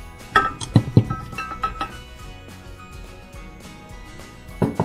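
Cut cherries tumble into a blender jar, giving a quick run of light clinks and knocks against glass at the start, then softer rattles and another tap near the end.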